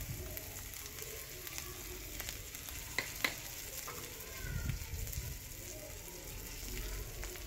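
Ground roasted cumin, coriander and dried chilli fry in oil in a pan, a soft, steady sizzle with a few sharp ticks and pops from utensil contact.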